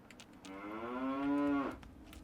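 A single long, loud cow moo from a cow in the video game Fallout 3, rising and holding steady for about a second before cutting off sharply, with no talk over it.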